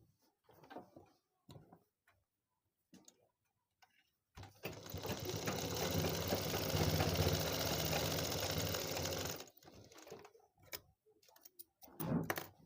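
A sewing machine stitches the base of a circle handbag in one loud, fast, continuous run of about five seconds. Quiet handling sounds of the fabric come before and after the run.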